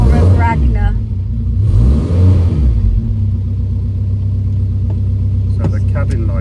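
A 1955 Renault engine revs loudly and steadily, its deep rumble swelling and falling, with a voice speaking over the start before the engine carries on alone.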